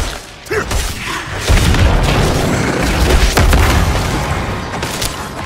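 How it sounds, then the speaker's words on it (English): Heavy artillery fire in a video game battle, deep booming blasts rolling into a sustained low rumble with mechanical clatter, loud and continuous throughout. "I brought artillery."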